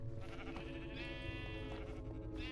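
Sheep bleating in the video game Minecraft, a wavering, drawn-out bleat over a busy game background with a short second bleat near the end.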